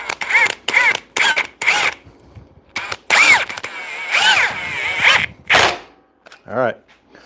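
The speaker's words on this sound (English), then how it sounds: "High torque impact wrench." A Ridgid high torque impact wrench runs in loud, close bursts of rapid hammering whirs, several short pulses separated by brief pauses, with people talking in between.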